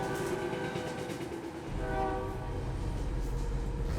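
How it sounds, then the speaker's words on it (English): A train horn blares in long sustained tones over a heavy rolling rumble as the train nears a track crossing late at night in California, loud and close with no talk. "He never saw the train coming."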